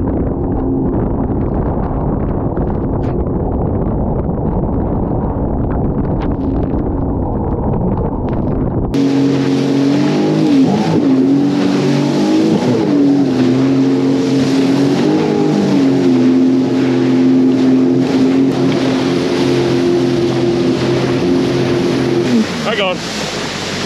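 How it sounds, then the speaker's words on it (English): A boat pitching through big waves on open water near Port Colborne during Canal Days, a steady engine drone with rushing water and wind buffeting the microphone, loud and continuous throughout. "these waves are a little big out here"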